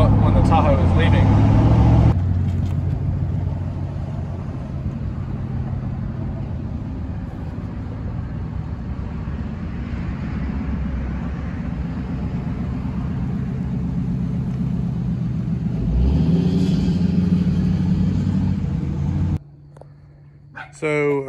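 A Chevrolet Tahoe being driven gives a steady low engine and road rumble from inside the cabin, continuous and moderately loud, with a brief break and a few clicks near the end.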